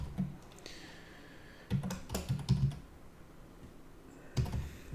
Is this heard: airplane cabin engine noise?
no